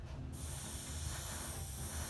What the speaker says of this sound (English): The sound that you hear is the air hitting the surface.